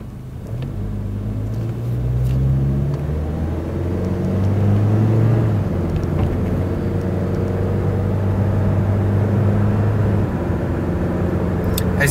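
A 2006 Chevrolet Colorado pickup engine hums and rumbles steadily while driving, with gentle shifts in pitch as it cruises along smoothly.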